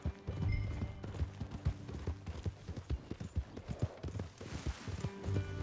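Steady clip-clop of horse hooves at a trotting rhythm in the video game Red Dead Redemption 2, fairly close, with a faint background hum.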